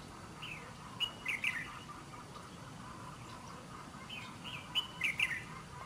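A red-whiskered bulbul sings in two short bursts of bright, ringing chirps, fairly faint over a steady background hiss.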